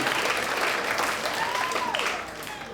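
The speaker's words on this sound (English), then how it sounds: "Oh, now you're clapping." Brief burst of audience clapping at a stand-up comedy show, moderately loud and fading slightly toward the end, with faint crowd murmur beneath.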